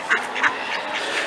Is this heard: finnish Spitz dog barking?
no